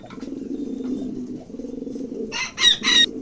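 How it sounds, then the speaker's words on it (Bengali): A pair of trumpeter pigeons, a black male and a red female, coo in low rolling murmurs close by, with a few sharper bright calls or flutters near the end. "এখানে একজোড়া"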